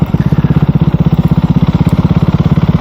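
A KTM 390 Duke single-cylinder motorcycle rounds a roundabout at low speed, its engine thrumming in a steady, fast pulsing beat, loud and close throughout.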